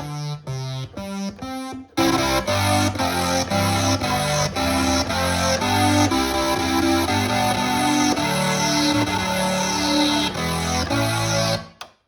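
A bright Behringer Poly D synthesizer playing sustained chords and a moving line, with a shimmering, doubled chorus effect texture; a short staccato phrase opens before the full sound swells in.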